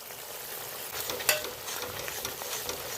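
A spice paste of ginger, garlic, green chili, cumin, coriander, Kashmiri chili powder, turmeric and salt fries in oil while being stirred, producing a close, continuous sizzle with scraping strokes and one sharper clatter.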